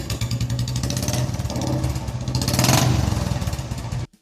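A motorcycle engine runs steadily at close range with a deep, throbbing thump, loud and continuous before cutting off abruptly at the end.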